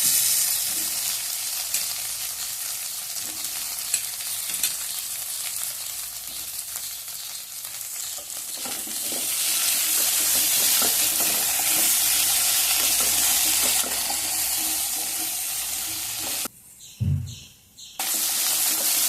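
Sliced okra fries in a pan with a loud, close, continuous hiss that swells midway as it is stirred, ending in a few brief clatters and a pause near the end; no talking.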